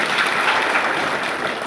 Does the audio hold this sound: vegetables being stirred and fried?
no